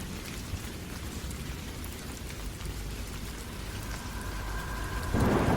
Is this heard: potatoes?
no